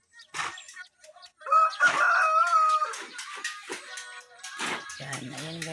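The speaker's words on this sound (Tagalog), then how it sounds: "Meron pa kaming chicken din guys. Alaga namin chicken." Backyard chickens clucking in short bursts, with a rooster crowing clearly nearby in a long drawn-out call, then more clucking.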